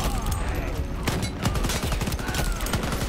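Gunshots in the shooter game Shatterline ring out as rapid cracks and short bursts, loud and close, layered over a busy mix of other in-game sounds.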